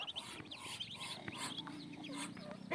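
Chickens cluck and chirp in short, overlapping calls, close by, with small peeping sounds scattered throughout.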